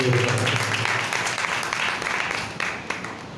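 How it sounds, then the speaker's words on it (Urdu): Congregation clapping loudly during a church service, a dense continuous wash of applause filling the whole stretch, steady and close with no distinct individual claps standing out. "زوردار تالیاں خداوند کے دلانے کے لیے بجائیں"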